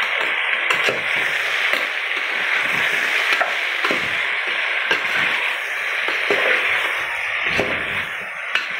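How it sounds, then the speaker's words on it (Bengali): Potatoes frying with chilli powder are stirred in a pan, making continuous bright sizzling and a run of scraping, clattering strokes from the spoon, close and loud with no voices. "এবার এটাকে একটু ভালো করে নেড়ে দেবো।"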